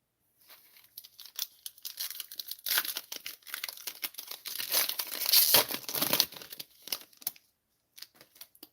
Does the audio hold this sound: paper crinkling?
yes